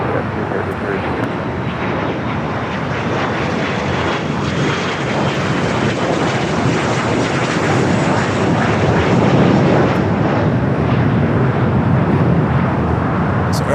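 An airliner takes off from runway 25 right at LAX with a loud, continuous engine roar that swells and holds steady, heard from nearby for the whole stretch.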